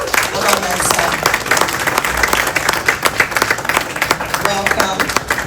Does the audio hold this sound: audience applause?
yes